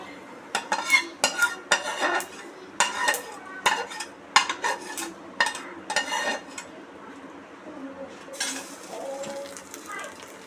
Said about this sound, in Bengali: সেই গুলাটার মধ্যে ফোড়ন দিয়ে দিচ্ছি